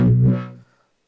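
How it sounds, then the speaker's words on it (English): A single sustained chord from a Behringer DeepMind12 synthesizer in 12-voice unison mode with rack amp reverb and Midas EQ, thick and buzzy, loud at first and then cut off sharply with a short reverb tail. "12 voice unison sound."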